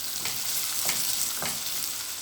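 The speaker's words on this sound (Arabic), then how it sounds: "ودلوقتي الزيت سخن معانا، هجيب البصل وهضيفه" Onion frying in hot oil for a baked pasta dish with minced meat: a continuous, even sizzle broken by a few soft stirring scrapes, close and moderately loud, with no talking.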